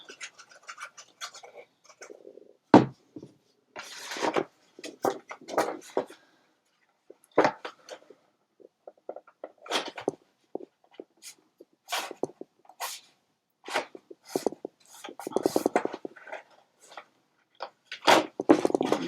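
Folded paper glued into a craft photo organizer is burnished and handled, giving close, scattered rubbing swishes and crinkly paper scrapes separated by short pauses.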